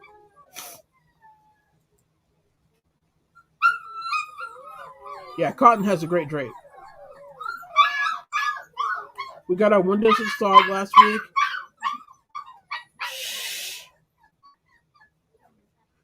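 Dogs bark and yip intermittently beneath people talking, the animal sounds rising in short bursts between and over the conversation.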